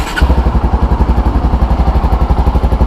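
A motorcycle engine catches right away and settles into a loud, close, rhythmic idle with a steady thumping beat.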